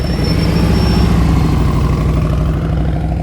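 A motorcycle engine chugs steadily at low RPM during slow-speed riding practice, a loud continuous low throb with an even pulsing rhythm and no talk over it.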